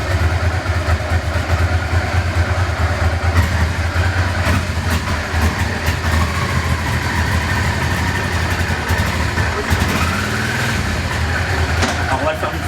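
A used motorcycle's engine runs steadily up close, a dense, loud mechanical rumble and clatter that continues without a break throughout.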